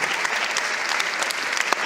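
Audience applause and crowd noise for a band at a televised song contest, dense and continuous throughout.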